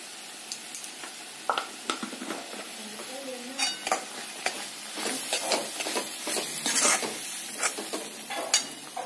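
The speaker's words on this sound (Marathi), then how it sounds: "छान असं मिक्स करून घेणार आहोत." Spices for paneer tikka masala, including coriander powder and salt, are stirred in hot oil in a pan, with repeated scraping strokes of a spoon over a soft sizzle, close and clear.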